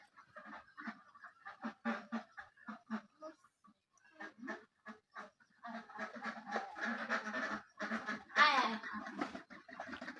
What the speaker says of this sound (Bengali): দেখেন চারটা হাঁস আছে